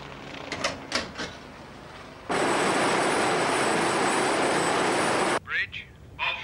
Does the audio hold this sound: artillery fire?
no